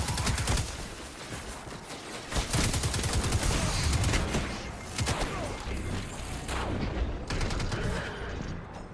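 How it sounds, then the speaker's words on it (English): Rapid gunfire from a fast-firing linear fusion rifle in the Destiny 2 video game, a dense, loud barrage of repeated sharp shots lasting throughout with little pause. "That was a very fast fire linear fusion rifle"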